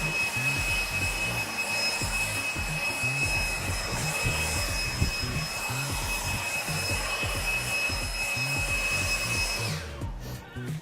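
A battery leaf blower runs at full turbo with a sustained high-pitched whine and rushing airflow, steady and close for about ten seconds before cutting off abruptly at the end.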